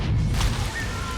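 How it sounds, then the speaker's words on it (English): Explosions chaining together in the turn-based game Othercide Ex Sanguis, a dense low rumbling boom with crashing debris that stays loud through the whole short burst, with no voices over it. "Chain reaction, some explosions, never hurt anyone."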